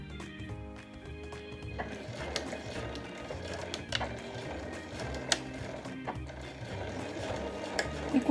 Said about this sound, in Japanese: 開き口から縫っていきます